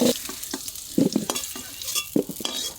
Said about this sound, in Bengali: আলু ভাজা হয়ে গেছে, এখন আলু ভাজাটা তুলে নেব।